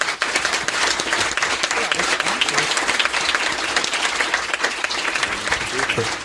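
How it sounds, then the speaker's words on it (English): Loud, sustained applause from a crowd, dense clapping filling the whole stretch without a break. "So we should give a big hand of applause to people."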